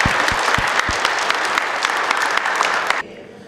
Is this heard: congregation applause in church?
yes